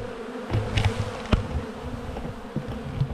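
Honeybees buzzing around beehive frames being checked before winter, a close, wavering swarm drone with individual bees zipping past near the microphone.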